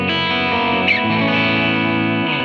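Electric guitar played through a Bias FX Super AC amp preset, Blackface-style with a treble booster in front: a loud, distorted, aggressive blues-rock tone with sustained chords and a brief bent note, heard without any talking.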